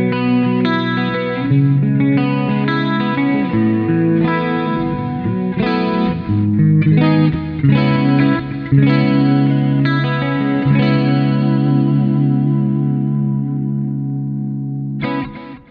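An electric guitar runs through a pedalboard simulating a saturated valve amplifier. It plays sustained, overdriven chords and notes with chorus-like shimmer, loud and steady, with no voices.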